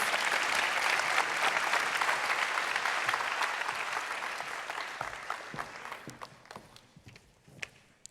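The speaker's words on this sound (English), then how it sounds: "Give them a warm round of applause." A conference audience at the opening of World Water Week 2023 breaks into dense, sustained applause that starts full and steadily thins, tapering off into a few scattered claps by the end.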